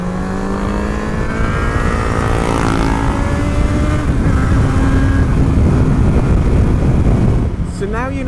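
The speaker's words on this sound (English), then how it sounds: "You can hear when I'm downshifting, you can hear when I'm blip shifting" A motorcycle engine drones loudly and steadily from riding position, its pitch stepping down through downshifts with quick throttle blips, and wind noise runs throughout.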